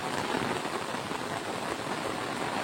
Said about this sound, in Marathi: पाऊस बघा तिथं